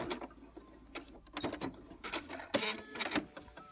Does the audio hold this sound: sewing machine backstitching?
yes